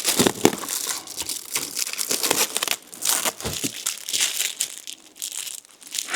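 A knife slices open crinkly plastic sticker packaging, with crisp crumpling and tearing rustles up close in a busy stream of small crackles and no voices.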